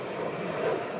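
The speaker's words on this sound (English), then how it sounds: "there's an aeroplane coming over, so it could get quite loud" A fixed-wing aeroplane passes over a South Yorkshire allotment, giving a steady, broad engine roar that fills the whole second at a fairly loud, even level, with no voices.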